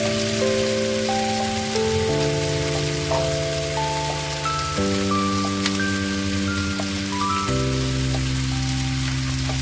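Fried baby corn tossed into a sizzling sauce in a pan for baby corn Manchurian crackles steadily like rain on a surface, with background music playing over it throughout.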